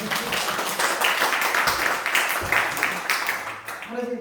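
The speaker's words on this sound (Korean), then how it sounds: "그냥 박수만 받겠습니다" A church congregation applauding during a Sunday worship service, a sustained spread of clapping with voices talking over and under it, tapering near the end.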